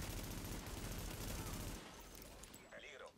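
Gunfire in Tom Clancy's The Division, a video-game cover shooter, comes as a dense burst of rapid shots that stops partway through, leaving quieter game sounds and a voice.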